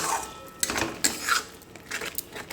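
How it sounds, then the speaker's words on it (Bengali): A spatula clatters and scrapes against a metal kadai as spice paste and goat meat are stirred, giving several distinct knocks over a light background hiss. "চলো খুব ভালো করে এবার নাড়াচাড়া করবো"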